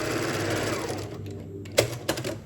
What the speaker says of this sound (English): I'm just gonna go ahead and stitch across.